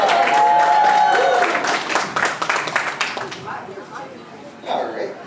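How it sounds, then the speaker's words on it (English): An outdoor alligator show audience breaks into a burst of clapping and cheering that fades over a few seconds, with a presenter's voice talking over and after it. "People clap. Cheers."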